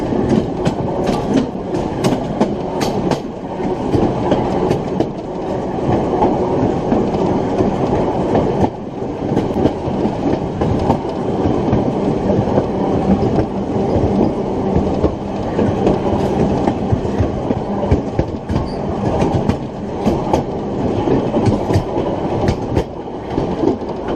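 Steady rumble of a moving train on an Ohio Railway Museum line, with rhythmic clickety-clack of wheels on rail joints, continuous and close, no voices.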